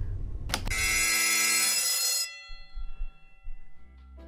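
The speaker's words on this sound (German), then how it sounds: "Okay, ich gehe jetzt den Alarm-Button drücken." Alarm button in the online game Goose Goose Duck sounds off after a short burst: a loud, steady electronic bell-like ring with dense harmonics lasting nearly two seconds, then cutting off and leaving faint low rumbles of gameplay.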